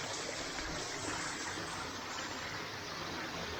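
Steady rushing fresh water flows continuously at a spring-fed bathing spot, a broad constant wash like a stream or small waterfall, fairly close and alone without voices.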